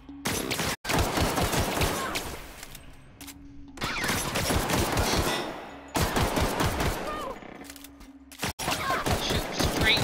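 Rapid bursts of gunfire from the video game The Outer Worlds, loud and dense, repeating in long volleys separated by brief pauses, with a faint voice underneath at times.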